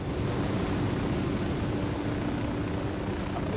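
In the video game Ghost Recon Wildlands, a helicopter's engine and rotor produce a steady, dense roar that holds at an even level throughout, with no speech over it.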